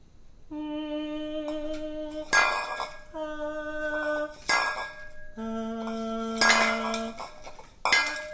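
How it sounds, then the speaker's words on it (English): A big metal mixing bowl is handled in a home kitchen, ringing with long sustained metallic tones after several clanks and knocks, close and fairly loud with no talk. "Next, we're going to take the big bowl."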